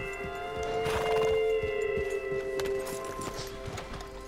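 A horse moves in Red Dead Redemption 2, its hooves making soft, uneven clops beneath a sustained tonal hum and game ambience, moderately quiet and without talk.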